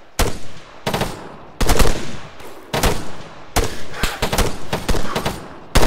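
Video game machine-gun fire crackles in sharp, loud bursts separated by short gaps, each volley a rapid string of close shots, with no talking heard.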